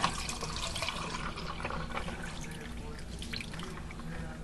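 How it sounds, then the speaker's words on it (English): An iced vanilla latte with milk is poured over ice, a continuous liquid trickle and splash into a glass with faint clinks, close and fairly quiet, with no talk. "I'm going to pour it over ice."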